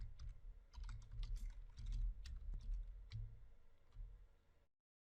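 Code is typed rapidly on a computer keyboard, close and clattery, in an Oracle PL/SQL session. Irregular clusters of keystrokes continue for about four seconds, then the sound stops.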